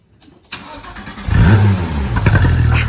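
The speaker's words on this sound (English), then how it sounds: "Here's a cold startup." A car engine cold-starts with a quick crank that catches into a loud, rough rumble. It rises to a higher-revving roar and stays close and steady.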